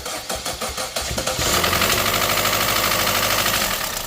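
A Chevy Trax engine on its first startup, jump-started with a booster pack, cranks in quick loud pulses for over a second, then catches and runs in a steady, loud, rough roar up close.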